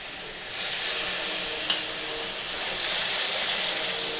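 Water poured onto spices in a hot pan brings up a loud, steady hissing sizzle that keeps going after the first burst. The dish is a home-style katla fish kalia.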